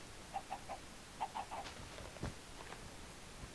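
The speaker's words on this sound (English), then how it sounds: "Where are those chickens? I hear them everywhere." Several short soft chicken clucks from blocky Minecraft chickens in a Mystcraft-mod jungle world, faint and scattered in small clusters over a quiet background.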